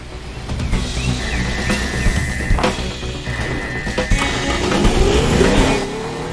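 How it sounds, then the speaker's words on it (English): A car in the game Teardown is driven to shove another car, its engine droning and revving continuously with a few knocks and scrapes of contact along the way. "I'm going to push it in with the green car"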